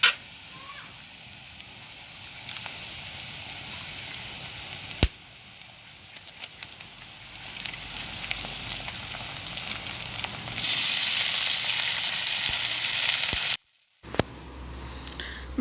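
Pork meat added to a hot pan with spices, hissing and sizzling loudly in a sudden burst that cuts off, after quieter frying and stirring with faint talk.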